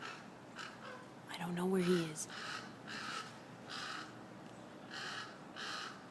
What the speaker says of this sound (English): That sound is a crow.